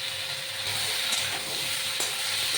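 Chopped tomatoes with salt and turmeric sauté in a pan for a Bengali fish curry, a soft continuous sizzle with faint stirring scrapes, quiet and steady with no talking.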